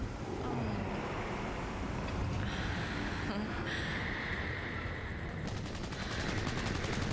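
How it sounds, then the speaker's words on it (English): Steady automatic gunfire in Cyberpunk 2077 rattles on continuously under a constant road and traffic rumble, fairly distant and even in level. "Who's shooting?"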